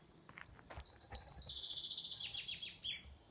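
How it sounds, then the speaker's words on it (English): A bird sings a bright, high warbling phrase of rapid trills and chirps outdoors, moderately near against a soft background hiss. "You hear the birds song?"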